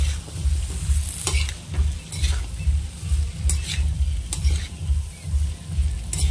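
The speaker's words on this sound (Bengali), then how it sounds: "এবার আমি একে একে গাজর, বিনস, ক্যাপসিকাম আমি সব দিয়ে দেব। ভালো করে নাড়াচাড়া করে নেব।" Carrots, beans and capsicum stirred in a hot pan: rhythmic scraping strokes, about seven or eight in a row, over a continuous close sizzle, no talking.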